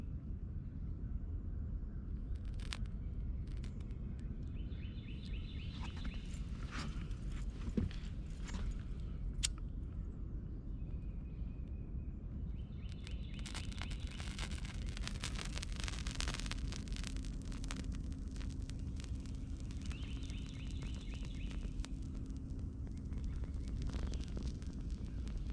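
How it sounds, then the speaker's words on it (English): Wind blowing outdoors at a bushcraft fire-starting spot, a steady low rumbling rush that lasts throughout, with a few faint clicks and light rustles on top. "Well, the wind's blowing now."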